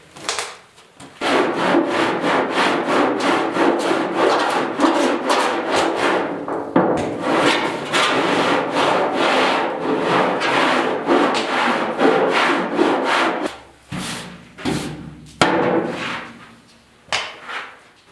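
Steady rhythmic scraping strokes of sanding bodywork on a 1972 Ford 4x4 truck's driver door, close and continuous, with a brief pause near the end before the strokes resume.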